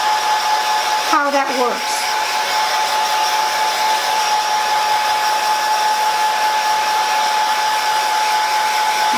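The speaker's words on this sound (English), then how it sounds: "in a cool setting and then just blow dry it like that" A hair dryer on its cool setting blows over silk fabric with a steady, continuous whooshing whir that holds unbroken from start to finish, with a brief voice speaking near the beginning.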